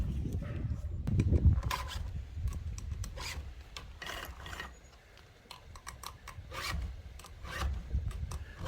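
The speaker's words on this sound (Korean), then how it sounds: "톱날을 갈고 있어요." A hand file rasping across the teeth of a saw blade to sharpen it, repeated short scraping strokes in an uneven rhythm, close and fairly quiet.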